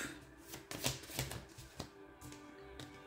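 Thoth tarot cards being shuffled by hand, soft riffling and flapping in several quick bursts, close and fairly quiet, with no talking.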